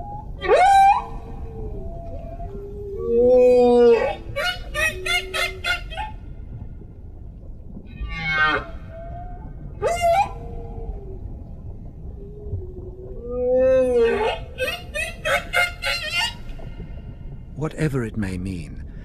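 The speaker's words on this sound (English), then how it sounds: "the humpback song is a remarkable evolving symphony of nature" Humpback whale song in the South Pacific ocean, a slow run of loud rising and falling moans, whoops and pulsed cries spaced apart, with no talk.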